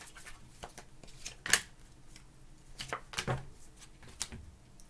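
Tarot cards being shuffled by hand, three short riffling bursts with soft card slaps between them, close and fairly quiet, no voices.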